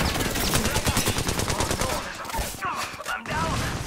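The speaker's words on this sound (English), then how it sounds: "They're shooting at me." Heavy, continuous automatic gunfire in an Apex Legends match on Broken Moon, loud and rapid throughout with overlapping bursts and brief chatter underneath.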